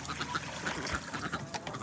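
Ducks quacking and calling while being given water on a small farm, several short bursts of calls close by amid general yard noise.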